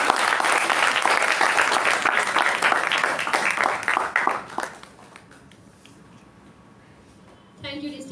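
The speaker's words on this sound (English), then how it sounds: "A round of applause for him." Audience applause at a Toastmasters meeting, dense clapping from a roomful of people that swells and then fades out midway, followed by quiet before a voice speaks briefly at the end.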